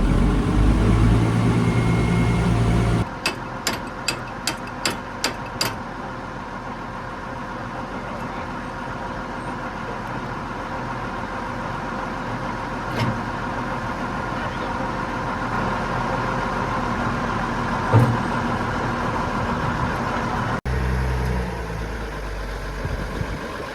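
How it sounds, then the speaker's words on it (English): Road roller engine idling and running steadily throughout, a loud low diesel drone with a short burst of rapid metallic clicks early on and a shift in engine tone near the end, no talk. "Oh, that roller makes a lot of noise."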